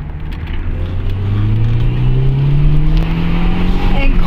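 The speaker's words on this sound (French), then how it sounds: "On va faire une petite accélération histoire de voir un peu si ça pousse. Et écouter un peu le bruit du moteur" Car engine revving under a brisk acceleration, its loud droning pitch climbing steadily over about four seconds, heard from inside the vehicle with a faint voice early on.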